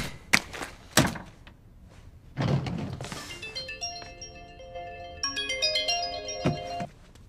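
An incoming call sets a mobile phone ringing indoors: a bright electronic melody plays in repeated tones after a few thumps and rustles. A dull knock sounds near the end.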